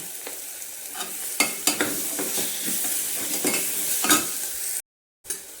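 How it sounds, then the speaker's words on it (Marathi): Onion with salt and onion-garlic masala stirred and fried in a pan, steady sizzling with repeated scraping and tapping of the spoon, then a brief cut to silence near the end. "चांगलं एकसार कालवून घेऊन भाजून घ्यायचा आहे कांदा"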